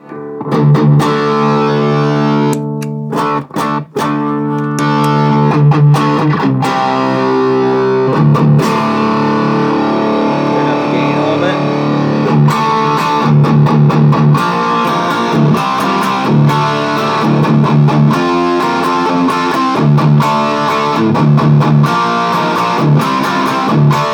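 Electric guitar played through a Wampler Triple Wreck distortion pedal, loud and saturated, with sustained chords and riffs broken by brief pauses and choppy rhythmic passages throughout.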